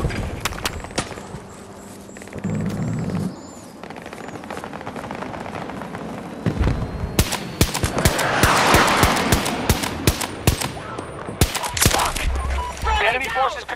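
Battlefield 2042 combat: sharp gunshots and machine-gun bursts crackle throughout, some near and loud, others in rapid clusters, mixed with game voice callouts and background battle noise.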